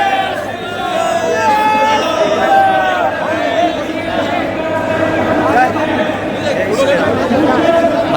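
A large crowd chatters at a political rally in Bhiwandi, a dense, continuous babble of many overlapping voices, loud and close, with occasional shouts rising above the hubbub.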